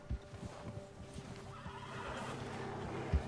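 A horse in the video game Red Dead Redemption 2 lets out a brief nervous whinny, with hoof clops and a soft game ambience around it.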